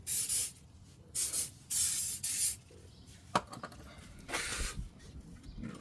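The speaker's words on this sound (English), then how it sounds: "silicone spray" Silicone spray shot from an aerosol can during a Hummer H3 axle and locking rear differential job: several short hissing bursts of varying length separated by quiet gaps, with a faint clunk in between.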